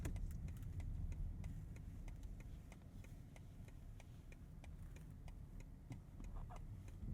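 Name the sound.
car turn signal ticking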